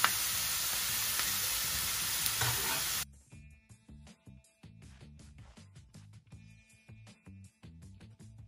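Onions hitting a hot pan, a loud bright sizzle for about three seconds, then the frying settles into quieter crackling broken by rhythmic stirring knocks.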